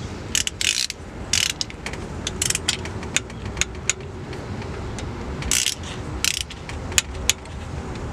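A ratchet wrench tightens bolts during an LS engine cam swap with a BTR Stage 2 truck cam, giving close, loud clicking bursts in short repeated runs over a steady shop background.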